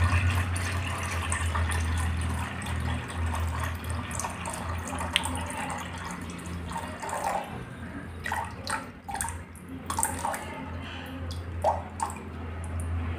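Water, 750 grams, poured into a container as the first step of mixing a multipurpose cleaning liquid, giving a steady close splashing and trickling flow that runs for most of the stretch with small drips and clinks near the end.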